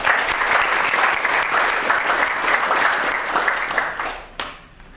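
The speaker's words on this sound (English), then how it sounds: "a round of applause for both of them" Applause from a lecture audience for nominated students, many hands clapping briskly and evenly for about four seconds before fading out with a final lone clap.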